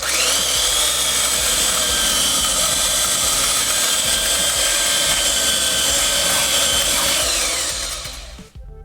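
An electric sander grinds steadily against pallet wood at close range with a harsh, even whine, and it winds down and stops at the very end.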